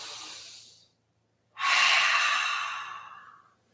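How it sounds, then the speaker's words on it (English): A deep yogic breath: a soft inhale, a pause of near silence, then a long, strong airy exhale fading away, close and alone with no talk. "Take a big breath in and out."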